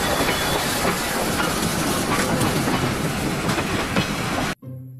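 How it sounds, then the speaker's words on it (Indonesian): A toy locomotive train gives a loud, steady rushing rumble with rattling clatter that runs for about four seconds and then cuts off abruptly, leaving a low hum. "Yang ini kereta api lokomotif."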